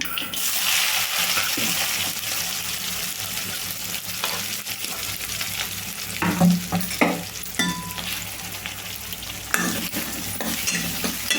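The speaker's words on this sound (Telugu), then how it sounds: "ఉల్లిపాయలు లైట్గా వేగితే సరిపోతుందండి" Chopped onions, green chilies and curry leaves fry in a pan for a tomato and dal curry, sizzling steadily while a spatula scrapes and stirs in repeated bursts, close up with no voices.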